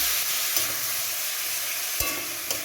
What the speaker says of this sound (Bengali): আবার এটাকে ভাজবে দেবো